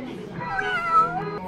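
A cat gives one drawn-out, fairly close meow at a cat cafe on a university campus, with faint room murmur around it.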